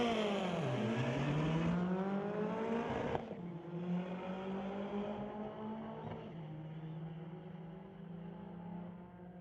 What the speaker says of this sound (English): Kevin Kaiser with that Honda K20 turbo motor underneath the hood, going up against Stephen Black in his BMW